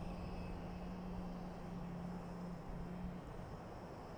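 A Delta airliner at Boise Airport makes a faint, distant, steady engine drone with a low hum, heard alone.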